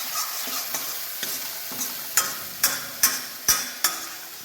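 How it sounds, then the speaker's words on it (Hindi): Spices and cashew paste cooking in a pan for a spiced dish, with a soft steady sizzle and a series of sharp spoon-scraping strokes against the pan, growing stronger in the second half. "मसाले, काजू का पेस्ट। अब इसको भी हल्का सा पकाएंगे।"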